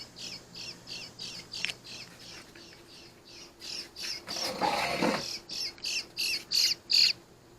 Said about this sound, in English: the bird is calling for food again